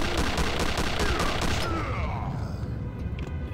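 Rapid bursts of gunfire from the Return to Castle Wolfenstein video game, some shots deflecting off an armored enemy, loud and dense throughout with a fading tail and no talk.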